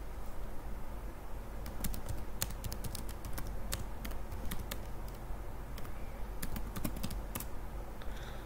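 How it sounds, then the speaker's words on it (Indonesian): Keys clatter in quick irregular bursts as a Linux command is typed on a computer keyboard, close and clear over a steady low background hum, with short pauses between runs of keystrokes. "Kemudian kita ketikkan sudo micro etc"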